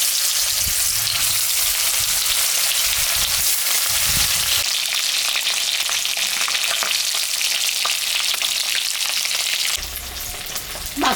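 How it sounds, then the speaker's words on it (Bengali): Fish seasoned with salt and turmeric fries in hot oil in a home kitchen, giving a loud, steady broadband sizzle for the whole stretch, with scattered spatter crackles and a few soft utensil knocks and no speech. "মাছটা এখন আমি ভাজবো।"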